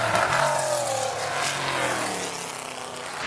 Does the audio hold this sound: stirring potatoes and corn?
no